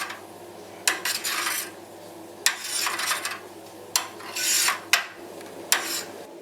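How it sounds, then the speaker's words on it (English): A spoon scrapes and rasps around the inside of a Grainfather brewing system while wort is stirred one-handed during chilling, in repeated short strokes with brief pauses between them, close and fairly quiet. "I'm just stirring slightly, just trying to do this one-handed now"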